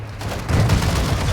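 Gunfire in a video game erupts as a loud, dense fusillade, with rapid overlapping shots building into a sustained roar after a brief quieter start.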